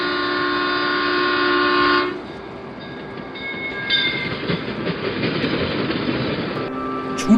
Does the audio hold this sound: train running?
yes